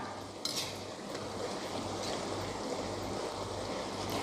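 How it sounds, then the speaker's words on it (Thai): Krob khem batter fries in oil, giving a steady, even sizzle and bubbling hiss that continues throughout, close and moderately loud, with a faint clink near the start. "ใช้ไฟทอดไปเรื่อยๆนะคะ อย่าใช้ไฟแรง"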